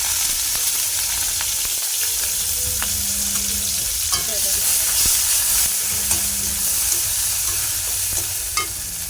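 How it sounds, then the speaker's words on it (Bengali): Onion and garlic frying in oil with dried chilies and spices give a loud, steady sizzle up close, with occasional scrapes and clinks of a spoon stirring the pan and no talking. "এরকম লাল লাল করে ভেজে নেব, এরকম করে।"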